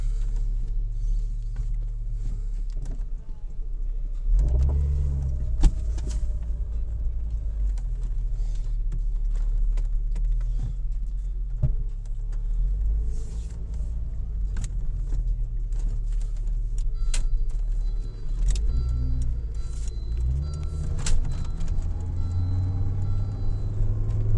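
A 1996 Volvo 850 with a suspected head gasket problem idles steadily up close, a deep continuous engine rumble with a few brief revs and scattered clicks.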